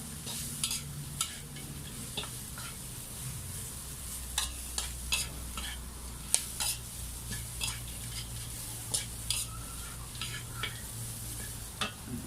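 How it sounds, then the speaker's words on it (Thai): Pieces of fried chicken are stir-fried with garlic and chili, with repeated scraping and clacking strokes of a utensil against the pan over a low, steady sizzle and no talk. "ก็ทำการผัดคลุกเคล้าให้เข้ากันนะครับ กับเครื่องกระเทียมพริกของเรานะครับ"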